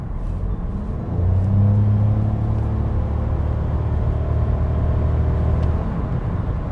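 2021 Toyota Yaris 1.5 hybrid accelerating from inside the cabin, a steady low engine drone rising gently in pitch over several seconds, with no talking.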